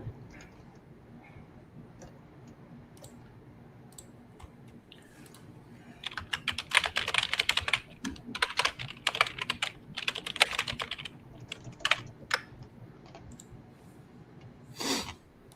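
Someone types on a computer keyboard, the microphone apparently built into it, so it sounds close. Soft scattered keystrokes at first give way to fast, dense bursts of clicking, then sparse taps toward the end.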